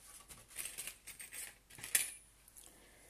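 Scissors cut out paper circles for a Stampin' Up card made with the Encerclé d'amitié set. Faint, quiet snipping and light paper rustle come in short irregular bursts, with one brighter metallic clink near the end.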